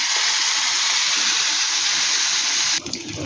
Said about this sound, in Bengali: শুটকি মাছটা ভেজে ফিরছি